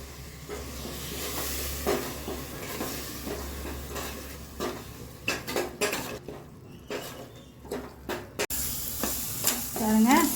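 Ground tomato being sautéed for mutton keema curry with amaranth leaves, with steady sizzling in the pan and spoon stirring and scraping against the metal throughout, plus a few louder utensil clinks toward the end.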